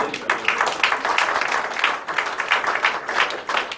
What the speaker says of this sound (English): Why don't we put our hands together for this guy here?